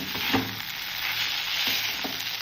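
Washed flattened rice (poha) with salt and turmeric is mixed in a hot pan, making a brief, even sizzle with a few soft stirring scrapes and no talking.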